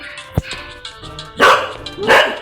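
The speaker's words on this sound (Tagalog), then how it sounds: "May aso sa background namin." A dog barks twice, loud and close, with a short sharp yip before, over a background of Roblox game sounds.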